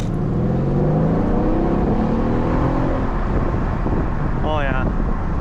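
Mercedes CLS550 V8 with resonator delete and X-pipe exhaust revs loudly and steadily close by, with a deep roar and wind buffeting across the microphone throughout.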